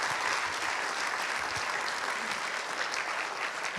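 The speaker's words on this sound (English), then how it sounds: "I think I'm going to stop for a quick round of applause for the sponsors." An event audience at an innovation competition final gives a quick round of steady, dense applause, fairly loud and unbroken throughout, with no speech over it.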